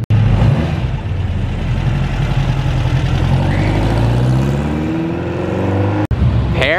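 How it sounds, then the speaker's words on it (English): All-black Ford GT engine rumbling steadily nearby on a busy downtown Monterey street, a loud continuous idle-like drone that swells as the car moves past, with a sharp click near the end. "Now an all-black Ford GT just showed up."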